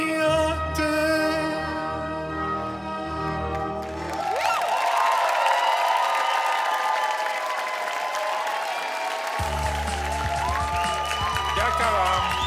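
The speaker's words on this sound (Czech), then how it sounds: "A nekonečný potlesk." An audience at a talent show breaks into loud, sustained applause and cheering, with music playing underneath and continuing to swell throughout.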